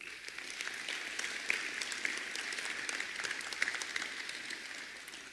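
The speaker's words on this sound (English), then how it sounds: "please give a round of applause to Pedro" An audience claps for a student at a high school senior celebration, a steady mass of applause with occasional louder individual claps, continuing for several seconds at moderate distance.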